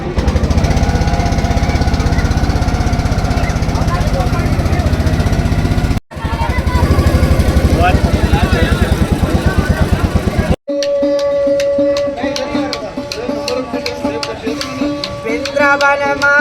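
A motor boat engine drones steadily and loudly during a river crossing at Vrindavan. Its throbbing chug runs on with two brief cuts, and people talk beneath it.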